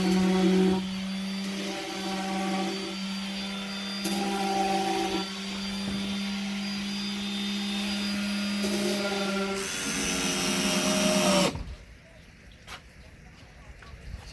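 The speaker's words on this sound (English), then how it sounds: "I'm just smoothing the rough edges to just make it look better." A power tool whines steadily as it smooths the rough edges of a control box panel for a hydroponic garden, a loud sustained drone that shifts pitch and cuts off near the end.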